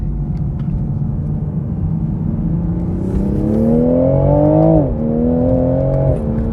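A car engine with very linear power and strong low-RPM torque, likely sequential-shifted, pulls hard and loud, rising steadily in pitch, then drops briefly on a quick upshift and climbs again before another shift.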